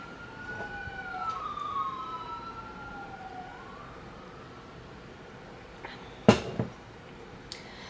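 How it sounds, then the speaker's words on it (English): A faint emergency siren wails in the distance, its pitch sweeping up and down, followed by a couple of sharp nearby knocks. "Got some sirens going."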